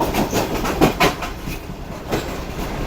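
A Pakistan Railways passenger train, apparently the Awam Express with CNR coaches in matching livery, rolls past Rahim Yar Khan railway station with a close, steady rumble and rhythmic wheel clatter that swells and eases, no voices.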